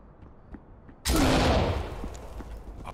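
In the tactical shooter Ready or Not, a flashbang grenade goes off in one sudden, loud, close blast after a quiet moment, and its ringing, crackling noise fades slowly over the next couple of seconds.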